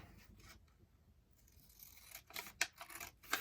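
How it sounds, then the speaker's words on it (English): Scissors trim the creased edges off a piece of fabric. A few quiet rustles lead into several sharp, close snips toward the end. "Trim off the creases like this"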